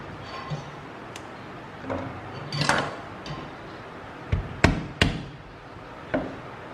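Cucumbers being smashed for a Chinese-style smashed cucumber salad, giving a few sharp, close thumps and knocks on a board at irregular intervals, with one heavier cluster of blows in the middle and no talk.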